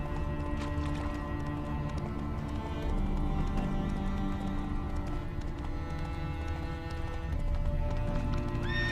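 Roach the horse gallops in The Witcher 3, steady hoofbeats drumming under layered game music and ambience, with a neigh rising near the end; loud and continuous throughout.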